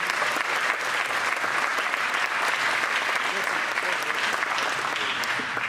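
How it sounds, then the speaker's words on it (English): Sustained applause from an audience at a community foundation annual meeting, honoring the grant committee; steady, dense clapping fills the room throughout at moderate loudness, with some voices mixed beneath. "I'd like to give a round of applause to the grant committee."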